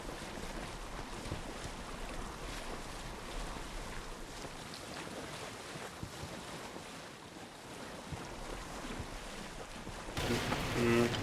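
Boat sailing on the sea in Assassin's Creed Odyssey, a steady wash of waves and wind with soft creaks, faint and continuous, rising into a louder burst near the end.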